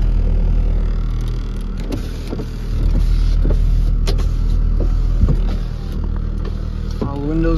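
Electric power windows on a used car with about 130 thousand miles and no working brakes whir up and down, a steady motor hum with faint clicks beneath a constant low vehicle drone.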